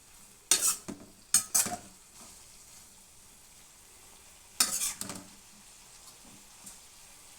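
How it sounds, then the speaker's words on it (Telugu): Cauliflower frying in a pan is stirred in three short bursts of scraping and clinking, with a faint sizzle filling the quiet gaps between them. "కొంచెం మధ్య మధ్యలో కలుపుతూ ఇలా మగ్గించుకోవాలండి."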